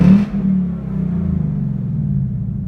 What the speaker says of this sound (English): when I was revving it there, in the RPM gauge, as it goes up